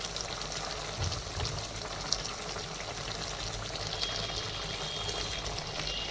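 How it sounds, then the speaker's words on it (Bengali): Turmeric, chili powder and bay leaves sauté in pure mustard oil for a beef head and turnip dish, giving a steady close sizzle with faint scraping under it. "এগুলো দিয়ে আমরা এখানে কষিয়ে নিচ্ছি।"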